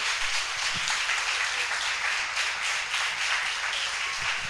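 Church congregation applauding together during a worship service, a dense, steady wash of clapping that fills the room continuously without a break.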